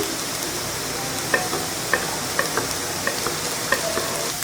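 Onions and green chili sautéing in a pan, giving a steady close sizzle with light, sporadic ticks as a spatula stirs them.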